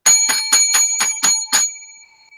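Seven quick, bright bell strikes ring in an even rhythm, each a sharp metallic ding with a ringing tone that fades out after the last one, loud and close with nothing else underneath.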